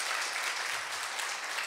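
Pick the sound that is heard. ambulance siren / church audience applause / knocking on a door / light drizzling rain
church audience applause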